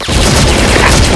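A loud grenade blast from a shooting video game booms close for a brief moment, dense and full from start to finish.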